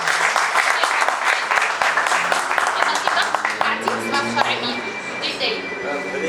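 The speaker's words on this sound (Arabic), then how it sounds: "وتسقيفه تشجيع" Audience applause of encouragement after a young girl's poetry recitation, dense continuous clapping filling the whole stretch at steady loudness, with some chatter mixed in.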